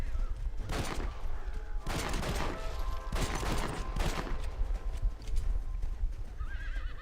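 Several bursts of gunfire in the Red Dead Redemption video game, sharp loud volleys repeating under continuous horse hooves clip-clopping and whinnying.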